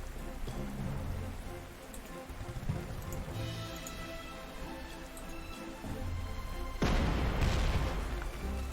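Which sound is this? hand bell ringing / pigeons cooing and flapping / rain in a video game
rain in a video game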